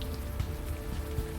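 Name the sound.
rain falling in the video game Unavowed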